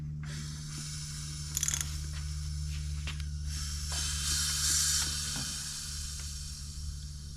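Ratchet wrench clicking as it turns over a Big Block Chevy 454 engine, a quiet steady mechanical ticking with occasional louder clacks over a low constant hum.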